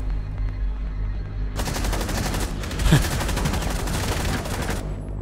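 Rapid automatic gunfire from a video game weapon bursts in loud and sustained after a quiet opening, with a sharp heavier blast near the middle before the firing trails off.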